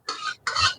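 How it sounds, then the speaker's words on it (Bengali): Oil being stirred in a pan while making kodbel (wood apple) chutney in a home kitchen, heard as two short, close scraping sweeps separated by a brief pause, with a soft low thump at the end. "একটু ভালো করে একটু নেড়ে চেড়ে দেবো তেলটাকে।"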